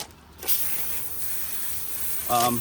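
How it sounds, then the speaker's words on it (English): A steady hiss of sprayed water rinsing off a car wheel runs throughout, with a sharper burst near the end and no talking. "Let's spray it off."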